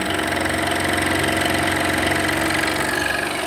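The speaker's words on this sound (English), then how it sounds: "the most important thing about using a scroll saw is take your time and let the saw do its work" A scroll saw cutting at a steady pace, its motor humming and vibrating continuously at close range with a fine, even buzz and no talking.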